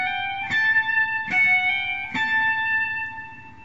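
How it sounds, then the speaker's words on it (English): Guitar picking a short melodic phrase from Pachelbel's Canon, three clear plucked notes spaced about a second apart, each ringing out with sustained bright harmonics, played alone and close. "So starting from the first triplet of bar E, it would sound like this."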